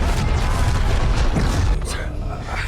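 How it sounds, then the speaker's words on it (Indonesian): A large explosion from a plane crashing nearby in The Last of Us series, heard as a dense, loud rumbling roar with heavy low end that stays sustained and then eases slightly toward the end. "sebuah pesawat jatuh di dekat mereka dan menyebabkan ledakan besar"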